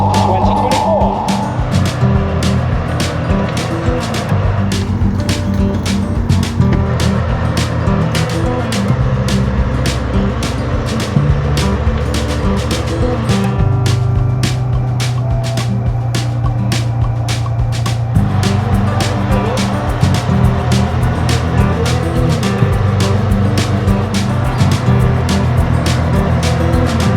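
The Detroit diesel turbo engine in an AMX13 105 tank idles as it warms up after a first start, with a loud, steady rumble and a fast ticking beat running close and unbroken.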